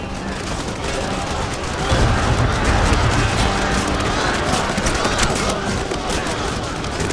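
Massed musket volley fire in Total War: Shogun 2, a dense, sustained roar of overlapping shots and crackle that swells after a couple of seconds and stays loud throughout, with battle noise layered beneath.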